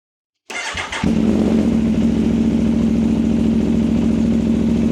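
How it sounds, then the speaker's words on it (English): An Aprilia Tuono V4 1100 Factory motorcycle bursts into life after a short crank, then settles into a loud, close, throbbing idle that stays steady and rumbling to the end. "The main thing most people want to know about the Aprilia is how it sounds."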